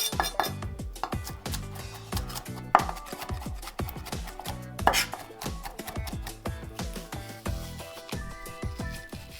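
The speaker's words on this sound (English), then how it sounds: "Chop garlics." A knife chops garlic on a cutting board in rapid, steady rhythmic taps, close and crisp, continuing for several seconds.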